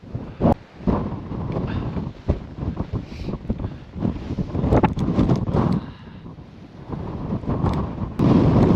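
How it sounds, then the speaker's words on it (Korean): Strong, gusty wind roars across a snowy winter mountain summit on Sobaeksan, buffeting the microphone loudly and continuously with surging blasts and no voices. "정상에 바람이 어마무지합니다"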